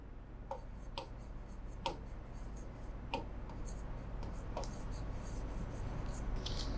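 A pen writes on paper at close range, quiet scratching strokes interspersed with sharp taps and ticks, faint and intermittent over a low steady background hum.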